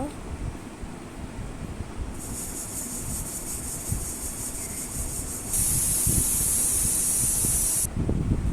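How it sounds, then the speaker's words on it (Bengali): A pressure cooker holding buffalo meat gives off long, loud hissing steam bursts over a low rumbling cooking background, two separate jets several seconds each, with no voices. "প্রেসার কুকারে দিয়ে আমি 5 থেকে 6টা সিটি দিয়ে নেব"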